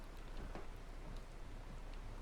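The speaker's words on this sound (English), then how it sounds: "I hear the rain." Rain in Farming Simulator 22, a soft, even hiss of falling water with faint scattered drops, low and continuous throughout with no talking.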